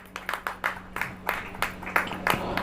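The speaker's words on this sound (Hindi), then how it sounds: "ताली बजाइए।" Congregation at a church worship service clapping in a steady, rhythmic beat, each clap a sharp burst over a low electrical hum, with no talking.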